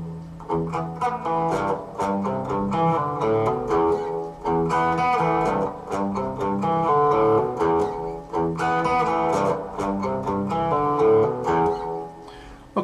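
The intro riff of a song is played slowly on guitar, mixing open strings with fretted notes in a continuous, evenly picked pattern of ringing notes that stays full and prominent throughout.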